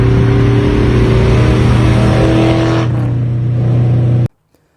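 LS-swapped 1984 Nissan 300ZX with a 5.3-liter V8 from a 2004 Silverado, idling loudly and close, with a strong steady low drone that dips slightly before cutting off abruptly near the end.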